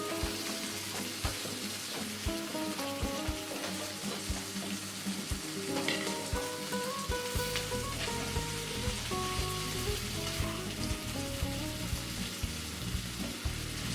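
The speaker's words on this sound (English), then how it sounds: "So we're going to fry this up now." Potatoes fry in a pan with a steady, close sizzle that holds throughout, broken by a few stirring scrapes, while music plays over the top.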